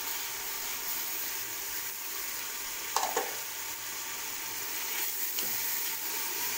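Fenugreek leaves (methi) hitting hot masala in a pan for aloo methi matar, a continuous loud sizzle with a couple of sharper crackles as they are stirred.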